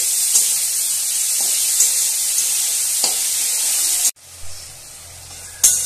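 Tomato, salt, turmeric and sugar stir-fried in a pan for shukto, a steady loud sizzle with a few stirring scrapes, broken by a sudden drop near the end and then a renewed hiss.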